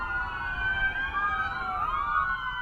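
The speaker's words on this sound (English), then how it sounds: "The sound of sirens" Several police sirens wail together at a memorial for a fallen sheriff's officer, overlapping rising and falling tones over a low traffic rumble, steady and fairly close.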